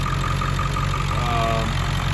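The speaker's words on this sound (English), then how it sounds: "it's just that big of an engine that it needs 2 batteries to start" A 2002 Ford F-350 Super Duty 4x4 with a 7.3L V8 diesel idling, a steady, loud, low rumble with a knocking diesel clatter close up.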